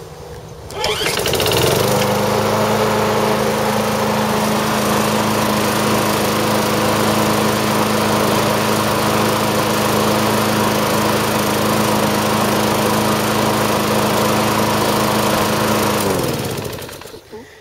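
A small gasoline engine, freshly refueled, runs smoothly with a loud, steady, close-up drone that holds unchanged for about fifteen seconds before cutting off.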